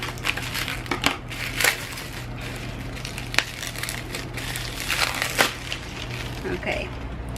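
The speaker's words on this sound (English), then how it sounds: "So let's open this with my scissors." Scissors cut open the plastic packaging of a watercolor sketchpad, close crinkling crunches and sharp snips in irregular bursts with a faint background hum.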